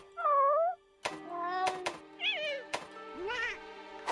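A cartoonish cat character in the Monster Hunter Rise game meows repeatedly, bright bending calls mixed with short clicks and interface thumps, close and clear with no talking.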